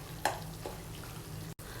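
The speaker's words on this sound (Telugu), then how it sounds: "కూడా బాగా పచ్చి వాసన పోయేంత వరకు ఫ్రై చేసుకోవాలండి" Garlic paste fries in a pan for chicken curry, a steady close sizzle with a brief stirring scrape near the start, no talking.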